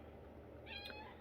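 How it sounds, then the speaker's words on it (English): A house cat lets out a short meow, faint and close by, over a quiet steady background with no talking. "Excuse my cat, sorry."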